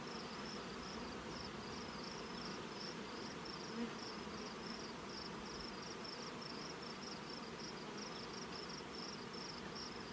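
Honey bees buzzing around an open hive frame of young brood during a summer honey harvest, a dense continuous hum close by with no talking.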